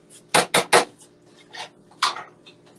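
Metal spoon rinsed and knocked against dishware at a kitchen sink while cooking Jamaican fried snapper: three quick clinking bursts close together, then two fainter clatters after a pause.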